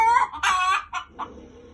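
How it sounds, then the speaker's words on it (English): Chickens squawk loudly up close in a few agitated bursts, harsh and shrill calls in quick succession. "my chickens are just started screaming"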